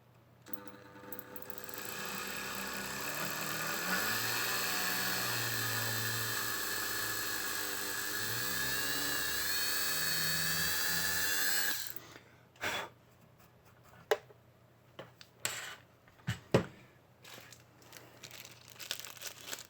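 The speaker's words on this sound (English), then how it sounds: "drill a hole for the capacitors" A small high-pitched drill whines steadily for about ten seconds, drilling a hole for capacitors in a Toshiba T1600 power supply, then stops, followed by scattered crinkling and tapping handling noises.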